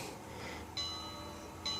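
A model Berkshire locomotive's bell from NCE DCC sound rings quietly, with two bright metallic strikes about a second apart over low background noise.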